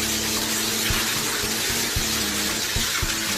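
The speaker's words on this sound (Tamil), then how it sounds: "இதில் ஃப்ளஷ் அழுத்துற நிலைமை யோசிச்சு பாருங்க" Rushing water pours continuously at close range, a steady loud hiss with low gurgling underneath as a toilet flushes and drains through the bowl.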